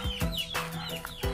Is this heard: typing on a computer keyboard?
no